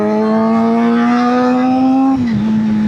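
A Suzuki GSX-R750 motorcycle with a Power Commander fitted, its engine held at a loud, steady, close drone that then drops slightly in pitch as the throttle eases.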